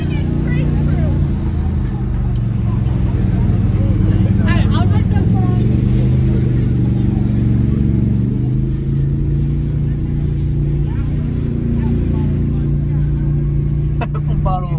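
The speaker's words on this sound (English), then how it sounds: "off-road three-wheeler right there." An off-road three-wheeler engine drones steadily and loudly at an ATV park, a continuous low rumble with slight shifts in pitch. People talk faintly over it.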